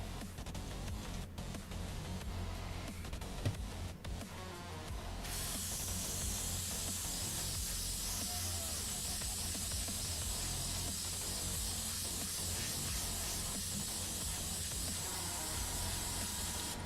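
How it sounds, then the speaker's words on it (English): An airbrush being cleaned out sprays with a continuous close hiss of air, roughening and getting louder partway through, then holding steady with no talk. "Cleaning out the old airbrush"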